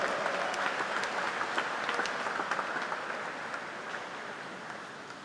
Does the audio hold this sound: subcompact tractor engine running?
no